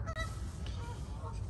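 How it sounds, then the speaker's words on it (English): Loud geese honk repeatedly in early spring outdoors, a few nasal calls rising over a low steady background rumble, close enough to be clear, with no talking. "being serenaded by the loud-ass geese"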